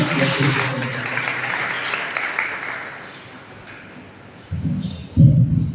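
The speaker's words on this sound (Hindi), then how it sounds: "सभी बहुत जोर से तालियों से स्वागत करें उनके विचारों का।" An audience bursts into loud applause at a renunciation initiation ceremony in Wambori, with dense clapping that swells, fades, then surges again near the end.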